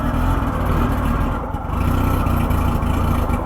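A Norton rotary motorcycle engine runs steadily close up while warming toward idle, a loud, low, rough throb with a slight dip and recovery in pace, no voices over it.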